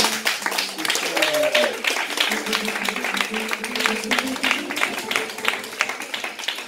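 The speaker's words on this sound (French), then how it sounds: "On peut applaudir les 4 qui" Clapping rises from a church congregation after an evangelism talk, rhythmic and fairly close, heard under a speaking voice that continues throughout.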